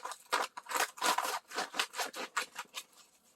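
Diamond painting canvas from a budget kit being folded backward, a series of close crinkly scraping and rubbing sweeps in an uneven rhythm, loud and clear with no talking.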